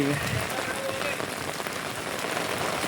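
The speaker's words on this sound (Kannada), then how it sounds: "ಮಳೆ ಬರ್ತಾಯಿದೆ" Steady rainfall pattering on a surface, a constant hiss of drops, with faint voices in the background.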